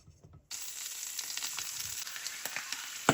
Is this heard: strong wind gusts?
no